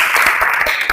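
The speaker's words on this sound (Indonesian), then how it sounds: "tepuk tangan untuk kita semua" Classroom students clap together in a dense, steady burst of applause, loud and close, lasting about a second.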